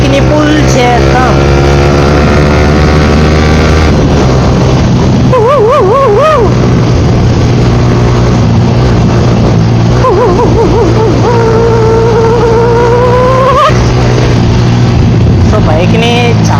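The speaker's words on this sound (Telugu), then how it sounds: "బైక్ని పుల్ చేద్దాం." A Yamaha R15 V3 motorcycle revs hard, its engine note climbing and falling through repeated rising sweeps, loud and close, with wind rush and a voice talking over parts of it.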